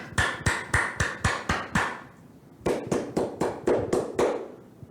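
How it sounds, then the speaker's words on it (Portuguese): Hands clap in two sharp, evenly spaced bursts of about seven claps each, separated by a short pause, close and crisp. "esse último som, é um som de palmas, né? Feito com as mãos."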